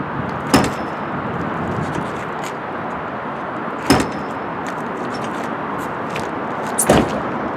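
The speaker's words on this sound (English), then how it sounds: "You have to smash the doors." A Dodge Viper's doors are slammed shut three times at spaced intervals, each a loud, sharp bang standing out above a constant background hiss.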